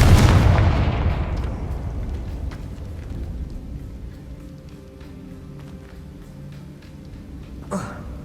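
A blasting spell in the Hogwarts Legacy game erupts as a loud, booming explosion, then decays into a long rumbling tail, with a brief softer impact near the end.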